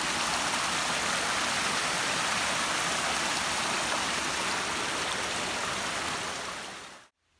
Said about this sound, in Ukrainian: Почався дощ такий пробивний мілкий, але пробивний.